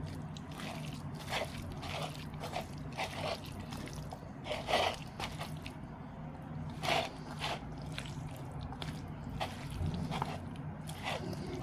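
Hands squish and slap small mola fish into a ginger, cumin and garlic paste, giving wet sticky squelches and soft drips at an irregular, fairly steady pace, close by, with occasional louder smacks.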